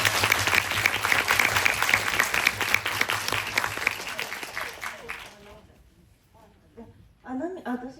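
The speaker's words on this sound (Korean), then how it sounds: "저희 박수를 한번 좀 드릴까요?" An audience at a film festival Q&A with an actor claps loudly and steadily for about five seconds, then the applause cuts off and a person begins speaking in a quieter room.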